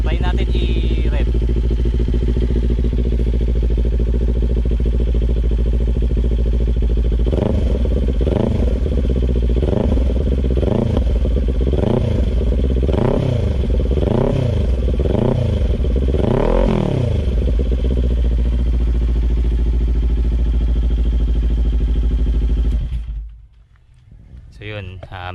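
Kawasaki Ninja 400 with an Orion exhaust being revved up close: steady loud idle, then a series of about eight sharp throttle blips rising and falling in quick succession, settling back to idle before cutting off.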